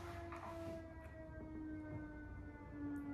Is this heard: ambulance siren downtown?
yes